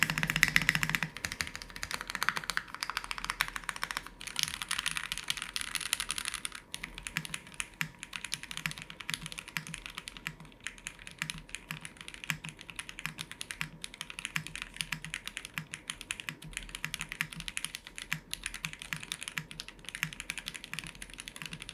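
Mechanical keyboard, with a version offered in aluminium, being typed on steadily: a long run of crisp, rapid keystroke clacks at close range with small pauses between bursts, no voices.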